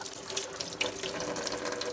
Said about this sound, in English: And then I just usually run it under the water.